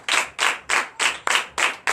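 Congregation clapping in rhythm at a Sunday church service in Comè, Benin, seven sharp, evenly spaced claps ringing out close and loud with no voices over them.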